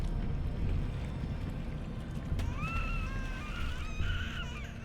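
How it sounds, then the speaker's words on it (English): Water bubbles in the video game Bramble: The Mountain King as a steady, murky gurgling wash. Thin warbling tones rise over it in the second half, and it is moderately loud, with no talking. "Oh, there's a water bubbling."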